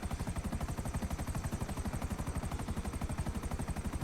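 A video game helicopter flying, its rotor beating in a fast, even, loud chop that runs unbroken throughout.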